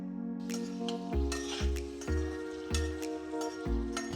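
Coarsely ground spice masala roasts in oil in a pan for gatte ka pulao, stirred with a metal utensil that clinks and scrapes in a rhythm about every half second over a steady tonal background.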